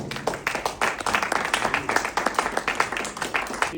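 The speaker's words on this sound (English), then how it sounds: "let's put our hands together for our next speaker, Hugh Ballou" An audience at a book signing event gives a burst of applause for the next speaker, with many uneven claps at close to moderate distance. A little talk runs under the clapping.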